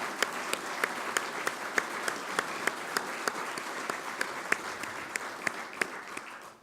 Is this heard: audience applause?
yes